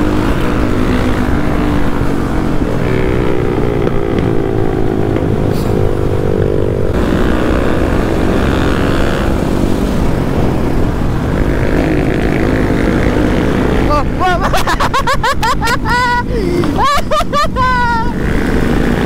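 Group of dirt bikes, including a Kawasaki KLX, riding on asphalt during a night ride in Lembang, with a steady loud engine drone throughout, rising revving whines near the end, and voices talking over it.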